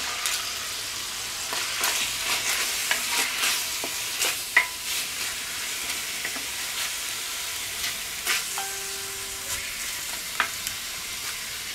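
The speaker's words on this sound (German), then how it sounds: "Und das lassen wir jetzt mal richtig schön anbraten." Steady sizzling of Black Angus ground beef frying in a little oil in a pot, with occasional scraping and stirring clicks, close by and moderately loud, no voices.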